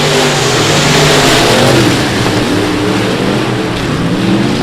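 Race car engines roar and rev continuously at South Texas Speedway, a loud, dense mid-range drone with shifting pitch as cars pass on the track.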